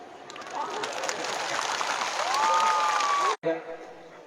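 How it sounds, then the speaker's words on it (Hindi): A crowd claps steadily at an outdoor Tipra Motha Party political rally in Karbook, the applause loud and sustained, with a whistle-like tone rising near the end before the noise cuts off abruptly. "आप लोग ताली मारो"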